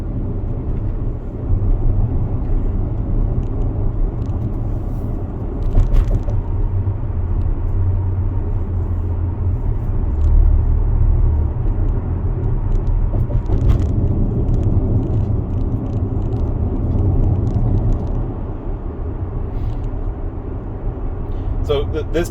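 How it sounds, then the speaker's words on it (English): Steady road rumble and low engine-free drive noise of a 2017 Tesla Model X running Full Self-Driving Beta on the way to Disney World, continuous and close, with a person talking over it throughout. "So this particular vehicle here is a 2017 Model X"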